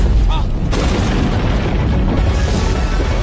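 A loud, booming explosion of the moon rolls into a long, rumbling roar that fills the whole moment.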